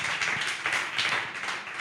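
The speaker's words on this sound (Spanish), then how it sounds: "Denle ese fuerte aplauso a Jesús" A church congregation applauding at an evening service, a dense, faint wash of many hands clapping together with no single claps standing out.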